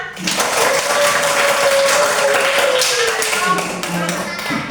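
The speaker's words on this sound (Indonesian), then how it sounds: "Tepuk tangan semua" Group clapping in a class or gathering, a dense continuous wash of hands held at steady loudness for several seconds, with a voice-like tone running underneath through most of it.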